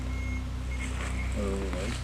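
A faint electronic beeping tone pulses a few times over a steady background hum, with a brief wavering chirp near the end.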